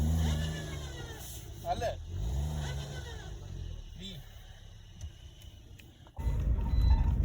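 A car engine labours and revs as the car works its way out of a tight, risky spot on a rough shortcut track. Voices talk over the first part, then the engine surges in suddenly, loud and close, near the end.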